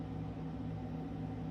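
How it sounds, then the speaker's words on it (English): A constant low mechanical hum with a faint tonal whine, steady and unchanging throughout, from a mini split air conditioner's inverter unit running nearby. "that's the inverter for mini split AC."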